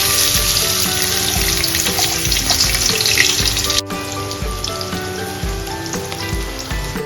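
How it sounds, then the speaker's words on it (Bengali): Chopped onions hitting hot oil for paneer butter masala, a loud, bright crackling sizzle with a low rhythmic stirring thump underneath, then a brief cut before the frying continues a little quieter. "এবার ফাইনালি কুচো করে রাখা পেঁয়াজগুলো দিয়ে দেবো।"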